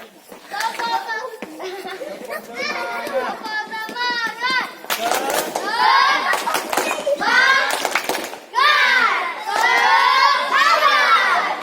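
A group of students at a volleyball lesson in Banda Aceh belt out a lively group chant, loud overlapping young voices in repeated rhythmic bursts, close by, with scattered shouting and chatter between phrases.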